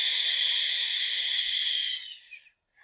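Children in a first-grade Ukrainian class imitate wind rustling forest leaves with a long, loud, steady shushing "shh" that lasts about two seconds, then tapers off and fades to silence.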